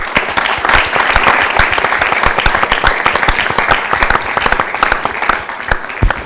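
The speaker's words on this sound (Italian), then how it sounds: "quindi le facciamo un applauso" Loud, sustained applause from an audience at an Italian youth event in Friuli, a dense stream of sharp individual claps held for several seconds, with no talk over it.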